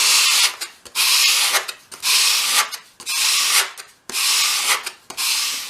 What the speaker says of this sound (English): just finish that piece off in your hand with a piece of fine grade sandpaper, just to really tidy it up